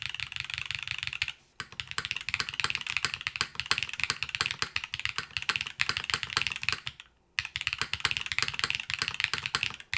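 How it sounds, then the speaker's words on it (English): Steady, fast typing on a Velora TKL top-mount mechanical keyboard with foam inside, dense clacky keystrokes close up, broken by two short pauses, with no talking. "I love the way these switches feel. The spring is really nice in these switches."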